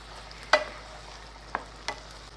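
Pinto beans tipped into a hot pan and stirred, giving three short scraping clatters over a faint, quiet sizzle with no talk.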